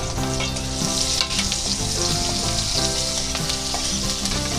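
Chopped onions with ground and whole cumin frying in a hot wok, a loud, steady sizzle that runs unbroken throughout with no talking.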